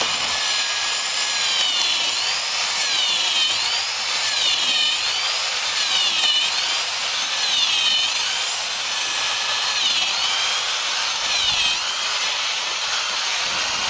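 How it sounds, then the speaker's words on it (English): A steady, continuous high-pitched whir of a drill boring an 11/16 inch hole into a wooden post, holding a constant tone for the whole stretch without pause. "here I'm going to drill an 11/16 inch hole"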